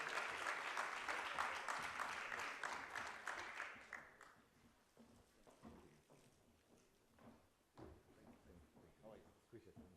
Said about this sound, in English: Sime, a round of applause in anticipation.